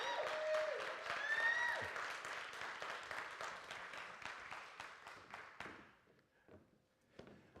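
An audience applauds in a church for two young people called forward to the pulpit, dense clapping that slowly thins out and fades to a few scattered claps, faint and somewhat distant.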